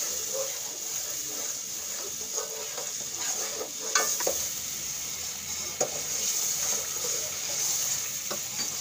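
Tomato masala for fish curry fries in a pan with a steady close sizzle, broken by a few light utensil scrapes and stirring knocks, no voices.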